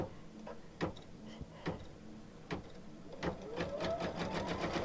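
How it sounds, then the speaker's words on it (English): Home sewing machine set to embroidery mode stitching on fabric, a steady mechanical whir building in the second half after a few soft clicks and taps. "go to Embroidery and lower my foot and sew"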